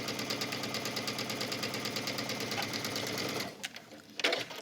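A sewing machine stitches around the hem of a wrap dress with a fast, rhythmic mechanical whir close by, then stops, leaving a few soft clicks and handling noises.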